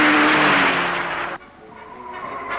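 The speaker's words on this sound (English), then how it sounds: "as they literally dragged the tires across the hard granite surface" Tires on a 1965 Ford Falcon squeal loudly as they drag across a hard granite surface. A harsh, sustained skid is heard up close with engine noise, then it cuts off abruptly into lower, quieter car rumble.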